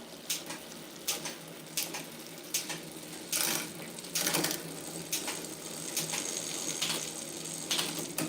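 Bicycle rear derailleur being adjusted with the cable tension screw, the drivetrain ticking in a steady run of close, crisp clicks and brief whirring bursts as the gears shift, with no talking.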